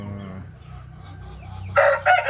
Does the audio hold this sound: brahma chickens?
yes